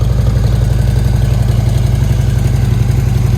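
A wrecked Harley motorcycle bought from Copart idles after being cranked up, producing a loud, close, steady low thumping with an even rhythmic pulse and no talking.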